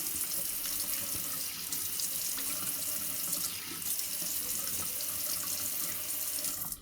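A bathroom tap runs steadily as water splashes into a sink during face rinsing, with a continuous close hiss and splatter and no talking.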